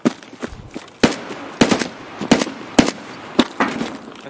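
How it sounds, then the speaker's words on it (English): Gunfire in Escape from Tarkov on the Customs map, a loud, close series of about seven sharp rifle shots in irregular bursts, each crack with a short echoing tail. "I shot him a few times."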